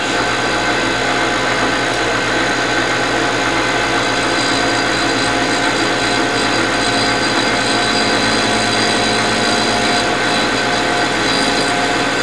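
A light 200-series carbide insert cuts metal with a loud, continuous, even grinding hiss and a low steady machine hum underneath, unbroken for the whole stretch.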